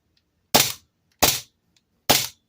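Three sharp, loud reports from a Staccato gas blowback airsoft pistol being test fired, evenly spaced about two-thirds of a second apart, each a crisp crack with a short decay, near and alone.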